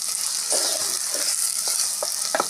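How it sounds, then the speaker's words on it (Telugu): Onions with salt fry in a pan, giving a steady, close hissing sizzle with a few soft stirring clicks scattered across the short stretch, no speech. "కొద్దిగా ఉప్పు వేస్తున్నాను ఉల్లిపాయలు బాగా మగ్గుతాయని"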